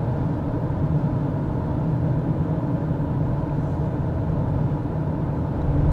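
Inside a second-generation Mazda CX-5 cruising in sixth gear on the road, a loud, constant low-pitched drone of road and engine noise fills the cabin without a break, and no one speaks.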